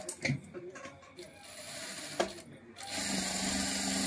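A sewing machine stitches lace onto blouse pieces. After a few faint clicks and a soft voice, the machine settles into a steady, quiet mechanical whirr for the last second or so.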